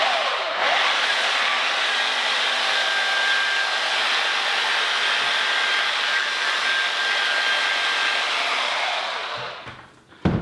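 A Flex XC 3401 VRG dual-action machine polisher runs continuously with a steady, fairly smooth whirring hum at close range, then winds down at the end.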